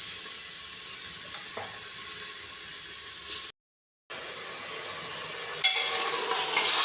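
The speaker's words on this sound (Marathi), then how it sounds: "कांदा आणि बटाटा असा खमंग होईपर्यंत आपल्याला परतायचा आहे" Onion and potato fry together in hot oil, a continuous bright sizzle and hiss heard close up, broken by one brief silent gap and a stirring clatter near the end.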